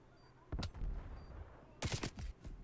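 Gunfire in a Call of Duty: Black Ops Cold War multiplayer match, heard as two short bursts of loud shots about a second apart with quieter game noise between.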